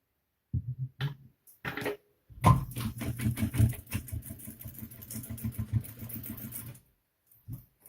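A sewing machine stitches a crossbody bag in a fast, steady mechanical patter for about four seconds, close and clear, bracketed by short bursts of handling and clicks before and after.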